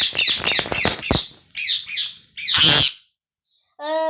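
A parrot eating sesame seeds gives a series of loud, harsh squawking calls close by, repeated in quick bursts, then a pause and a final call.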